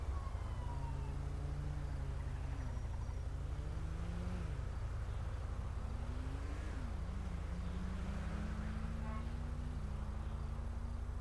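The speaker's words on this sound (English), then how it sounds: "Oh, here comes the ambo." Ambulance siren in the video game GTA 5, a continuous wailing tone sweeping up and down over a steady low engine hum, moderately close and sustained throughout with no talk.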